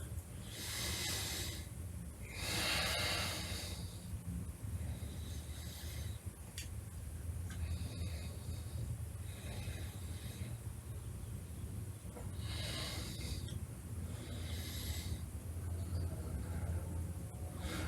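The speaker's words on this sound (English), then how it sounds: "take a nice deep breath in and out" Slow, deep breaths in and out from a person lying in a yoga rest pose with feet on a bolster, close and airy, with long rasping inhales and exhales repeating at an unhurried pace.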